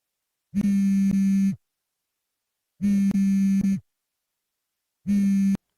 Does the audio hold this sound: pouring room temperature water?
no